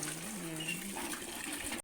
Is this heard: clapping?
no